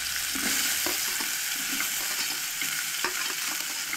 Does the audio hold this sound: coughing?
no